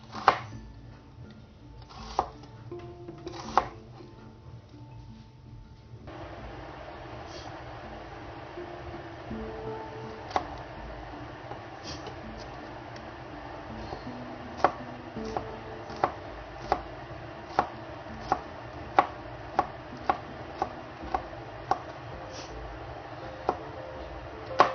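A knife chops onions on a cutting board in steady, sharp taps that grow more regular and frequent, quiet and close over the low hum of a running dishwasher, with no talking.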